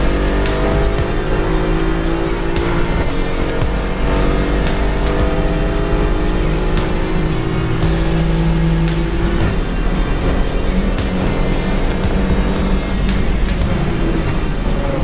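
An Aston Martin race car driving on a track, its engine droning loudly and continuously with shifting pitch as it accelerates, no talking over it.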